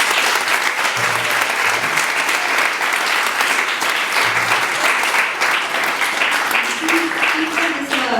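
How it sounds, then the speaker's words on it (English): Audience applauding the Mayapuris kirtan group at ISKCON Silicon Valley, a dense, steady wash of clapping that fills the whole stretch at an even loudness, with brief low tonal bits underneath. "let us give us a big round of applause to the Mayapuris"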